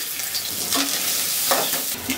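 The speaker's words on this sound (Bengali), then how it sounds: "আমি হচ্ছে তেল দিয়ে দেব, আলু দুটো ভেজে নেব।" Boiled potatoes fry in hot oil in a home kitchen, a loud, close, continuous sizzle with bursts of stirring and scraping.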